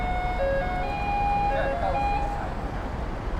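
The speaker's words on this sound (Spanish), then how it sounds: "que pongan música clásica en los camiones de la basura." A garbage truck in Taiwan plays classical music from a loudspeaker, a thin electronic melody of sustained notes heard from a distance over steady street background noise.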